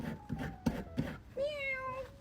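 A cat meows in the foreground: a few short, soft chirps come first, then one longer, drawn-out meow. No other sounds are present.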